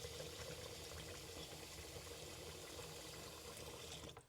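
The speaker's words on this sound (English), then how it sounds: "so I tend to stir it as I strain it" Cooked chickpeas are stirred in a strainer as water drains through, a steady wet splashing and trickling with faint scraping, close and even throughout before stopping at the end.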